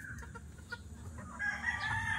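Fighting roosters on a farm in Batangas crow and cluck in short bursts, a crow rising near the end over steady low farm background, no talking.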